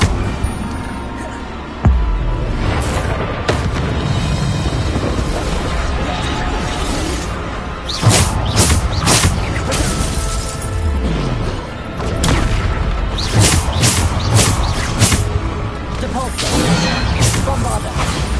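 Bombarda blasting spell explosions in Hogwarts Legacy, loud booms and crashing bursts that hit again and again over a dense game soundtrack, with a voice calling out spell names between them.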